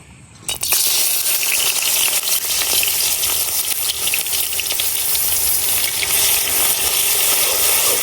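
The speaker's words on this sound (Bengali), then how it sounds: "তেল গরম হয়ে গেছে, এখন দিয়ে দিলাম পেঁয়াজ রসুন বাটা।" Onion and garlic paste hits hot oil in a pan for a village dried-fish curry, bursting into a loud, steady, close sizzle that holds evenly after a sharp start, with no talking.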